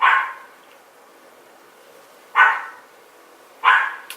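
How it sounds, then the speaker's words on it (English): A pet dog barks three times indoors, loud and close. The sharp single barks are spaced a second or two apart, with quiet in between and no talk over them. "Sorry, my dog."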